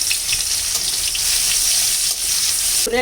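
Dry chillies and bay leaves sizzle hard in hot oil for a Bengali fish-head dal tempering, a dense, close, continuous hiss with a few soft stirring clinks and no voices.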